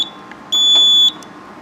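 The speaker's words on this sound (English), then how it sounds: "And the panel's beeping." A fire alarm control panel beeps once during a system test, a single loud steady tone of about half a second standing above a quiet room.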